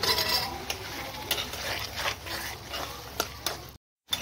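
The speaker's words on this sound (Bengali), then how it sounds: "এটাকে ভালো করে আমি মশলার সাথে আর আলুর সাথে ভেজে নেব।" Boiled peas being fried with potatoes and spices in a pan, heard as a soft sizzle under repeated scraping stirs and light clinks of a spoon against the pan.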